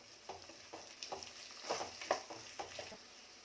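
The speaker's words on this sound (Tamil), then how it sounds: "இதை ஒரு 2 நிமிஷம் மட்டும் நல்லா வதக்கி விட்டுக்கோங்க." Bell pepper and onions sautéing in a pan, a quiet sizzle under repeated scraping stirs from a spatula, the strokes coming in an irregular rhythm and swelling slightly mid-way.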